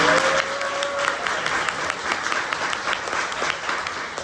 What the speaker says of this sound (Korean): 톤이한테 큰 박수 다시 한번 부탁드립니다